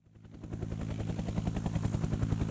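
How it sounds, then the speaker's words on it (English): A search-and-rescue helicopter approaches, its rotor chopping in a fast, steady thud that grows louder and closer over a couple of seconds. "Then the chopper arrives."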